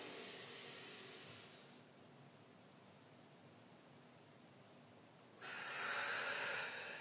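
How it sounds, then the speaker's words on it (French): A deep inhalation during a seated breathing exercise, heard as a soft, airy rush of breath at the start and again near the end, with quiet room noise between the breaths. "ce que je fais, c'est que j'inspire"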